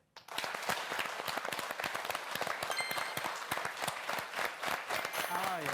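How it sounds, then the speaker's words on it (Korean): An audience in a hall claps together, trying to fall into a shared beat; dense, continuous applause with sharp repeated hand strikes gradually settling toward a common rhythm, close and loud throughout. "이 장소에 있는 다른 분들이 박수를 치는 소리를 귀로 들으시면서 다른 분들의 박수의 박자에 맞춰서 치시려고 노력하시면 돼요"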